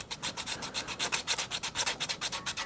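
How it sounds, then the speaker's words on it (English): Sandpaper rubbed quickly back and forth on the ignition coil contact points of a Craftsman 30-inch riding mower engine block, a steady rhythmic scratchy rasp of even strokes, close and moderately quiet with no voices. "I'm gonna sand the contact points here up too, where the coil contacts the engine block."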